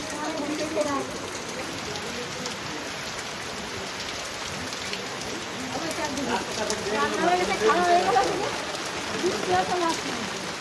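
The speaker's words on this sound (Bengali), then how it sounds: "বরফ পড়ে নাই, বরফ পড়ে নাই, বৃষ্টি হচ্ছে।" Steady rain patters continuously on a surface while people talk quietly in the background.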